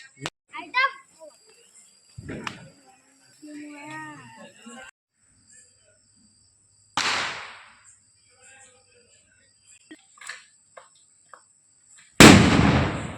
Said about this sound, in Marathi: फटाके फोडणे काही बंद होता नाही मित्रांनो